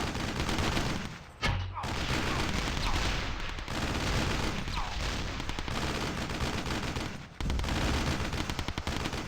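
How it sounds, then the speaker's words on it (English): Mortar and gunfire in the video game Battle Islands crackle in a dense, nonstop barrage of rapid explosive pops, with brief drops near two and seven seconds before the firing resumes. "Look at them mortars"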